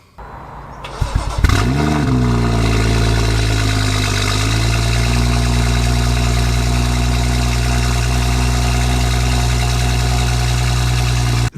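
A tuned BMW M2 engine cold starts: cranks and fires up with a sharp roar, then settles into a loud, deep, rumbling idle that holds steady close by.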